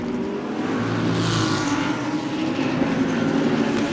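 DTM race cars at the start of a race, their engines merging into a loud, continuous roar of several cars accelerating together, steady throughout with no voices.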